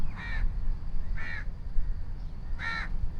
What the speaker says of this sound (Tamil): காக்கா கற்றுதுங்க ஊர் மாதிரி.